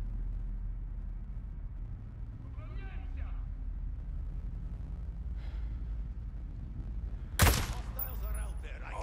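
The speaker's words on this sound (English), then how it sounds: "Shooting." A single sharp gunshot cracks late in the Ghost Recon Breakpoint video game, loud against a quiet low rumble, with faint in-game voices earlier on.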